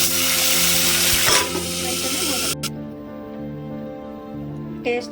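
A tempering for tomato rasam crackles loudly in hot oil for a couple of seconds, then the sizzle drops to a softer hiss while a person talks over it.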